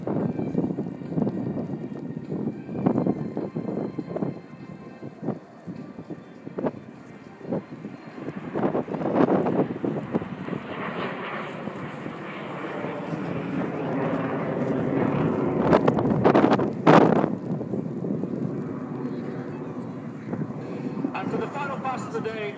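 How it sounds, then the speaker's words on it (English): Hawker Hunter jet making a fast pass at an air display, a broad roaring rush that swells toward the middle and tails off, mixed with wind buffeting on the microphone and a commentator talking over it. "Really winding the aircraft up. This is what the Hunter's all about."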